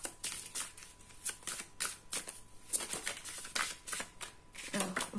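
A deck of tarot cards shuffled by hand in a quiet room, a quick run of soft riffling and flapping bursts in an uneven rhythm, close to the listener and fairly quiet, with faint speech now and then.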